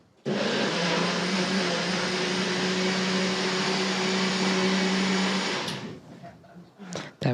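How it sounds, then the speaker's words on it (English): A blender runs at full power, a loud continuous whirring roar with a steady motor hum that lasts several seconds and then winds down and stops, followed by a few small knocks. "It was a blender."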